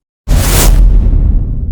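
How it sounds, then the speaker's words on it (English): Cinematic whoosh sound effect: a sudden loud, airy rush with a heavy low boom beneath it bursts in after a short silence and then tapers off over about a second and a half, with no voices. "Number 2. Whoosh Cinematic."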